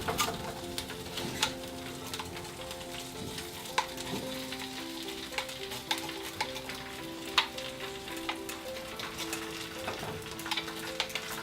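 Food sizzles and crackles steadily in a pan on medium heat, a continuous close frying hiss with small pops and occasional stirring clinks.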